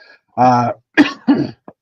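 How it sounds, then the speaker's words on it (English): A short voiced sound is followed by two quick, harsh coughs close to the microphone, ending with a tiny click. "excuse me for the cough."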